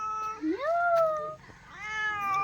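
A cat meows twice at close range, loud and drawn out, with a rising then falling tone, and a short break between the two calls; no one speaks.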